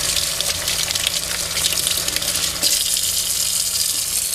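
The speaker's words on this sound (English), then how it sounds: "Turn your water back on," Water runs from a tap for rinsing hands, a steady, close gushing stream splashing into a sink without pause.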